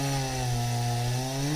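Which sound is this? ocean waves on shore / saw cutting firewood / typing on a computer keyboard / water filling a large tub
saw cutting firewood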